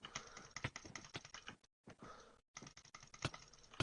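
A computer keyboard clatters with rapid, uneven key presses during a Minecraft Cake Wars session, close and fairly faint, broken by two short silent pauses before the typing resumes.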